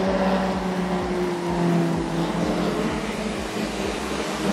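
Junior sedan race cars roar around a dirt speedway oval, engines droning loud and continuous with repeated pulsing surges as cars pass and rev through the turns.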